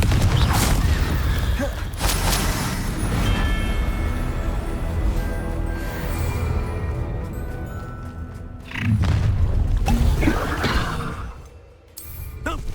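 Blasting and fiery explosion spells in the Hogwarts Legacy video game, with heavy booms and rumbling bursts at the start and again near the end, set over a sustained bed of game music.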